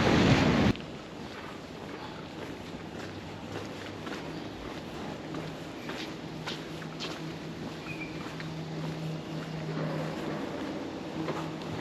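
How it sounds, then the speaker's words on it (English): Steady strong cold wind in Toronto buffets the microphone as a continuous rushing roar, loudest in a brief opening gust and then holding a constant whooshing bed with faint footsteps and no talking. "this wind is just brutal"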